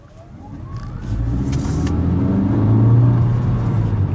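A Honda Vezel Modulo X hybrid with a 1.5-litre engine and electric motor accelerates from low speed, its engine drone rising steadily in pitch and loudness under road and cabin noise.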